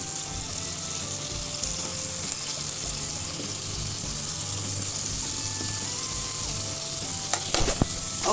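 Food sizzles steadily in a hot pan while being turned over, a continuous frying hiss with faint scraping and a brief clatter near the end.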